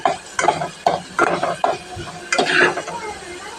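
Garlic frying in hot oil in a pan for a Telugu gongura chutney, a steady close sizzle with several scraping stirs of a spoon against the pan.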